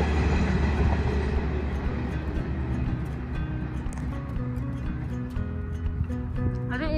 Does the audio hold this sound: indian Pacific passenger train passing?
yes